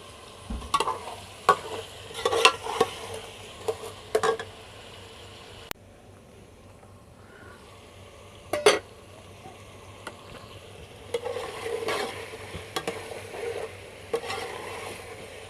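Chicken meat sizzles and fries in a pot for pulao, with intermittent stirring scrapes and clinks over a steady low frying hiss, close and moderately loud.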